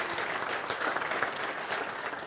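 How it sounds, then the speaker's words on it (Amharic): A church congregation applauds together in a steady, dense burst of clapping that fills the room for a couple of seconds, with a faint murmur of voices underneath. "አጨብጭቡ"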